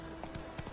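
Roach, a horse in The Witcher 3, clip-clops in a short burst of a few hoof strikes, close and moderately loud over a steady background hum.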